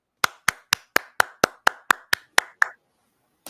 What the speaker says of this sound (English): Clap it up for us.